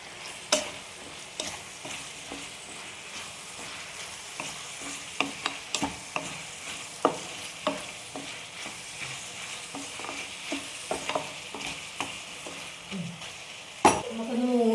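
Onion, tomato and green chilli fry in a pan for Kerala-style chicken ularthiyathu, with a steady sizzle punctuated by repeated spoon clinks and scrapes from close stirring.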